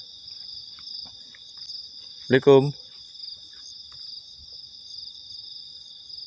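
Crickets chirp at night around a campsite, a dense, continuous high trilling that never lets up, while one person briefly calls out a greeting partway through.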